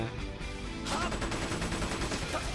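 Rapid gunfire bursts in the video game Kamen Rider Battride War Genesis break out loudly after a brief quieter lead-in and continue steadily to the end.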